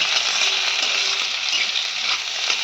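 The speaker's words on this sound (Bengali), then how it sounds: "দেখো পেঁয়াজ রসুন দিয়ে একটু ভেজে নিই।" Onion and garlic frying in a pan, a loud, dense, continuous hiss of sizzling oil heard up close with faint stirring, no talk.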